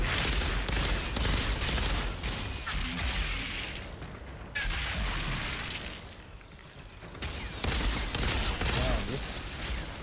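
Burst-fire gun shooting in the video game Outriders, loud dense volleys of gunfire with mechanical clatter, pausing briefly around the middle before resuming.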